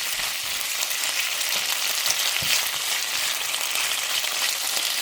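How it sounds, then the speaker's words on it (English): Shrimp fry in a pan over medium-low heat, giving a steady, dense sizzle and crackle that holds at an even level throughout, with a few soft low knocks and no voices. "Make sure the shrimp cook for about 2 minutes in one side"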